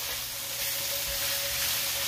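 Butter browning in a pan a little too fast while making a low-carb Alfredo sauce, giving a steady, even sizzle that holds close and moderately loud for its whole length with no talking.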